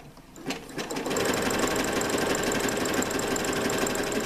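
A sewing machine sews a fabric dragon's mouth in zigzag stitch, starting with a few clicks and then settling into a fast, steady, close mechanical hum.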